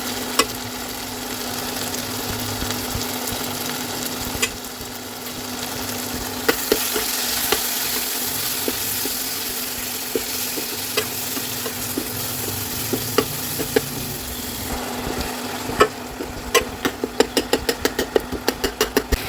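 Steady sizzling of salt, turmeric, chilli, crushed coriander and cumin frying in a pan for a matar malai methi dish, with scraping stirs throughout and a cluster of sharp clinks of the spoon against the pan near the end.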